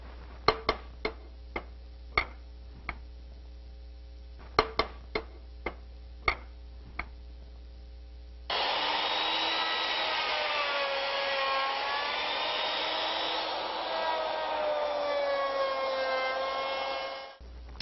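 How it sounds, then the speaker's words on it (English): A wooden cane handle is milled round, starting with a few sharp scattered clicks from the machine, then a steady, close grinding whir of the cutter against the wood that runs for about nine seconds before stopping. "Now go ahead and mill round."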